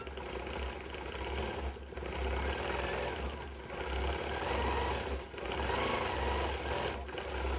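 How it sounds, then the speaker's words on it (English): A longarm quilting machine runs steadily while stitching a background motif around an applique, with a continuous mechanical whir and rapid needle rhythm that dips briefly every couple of seconds. "I'm going to start quilting"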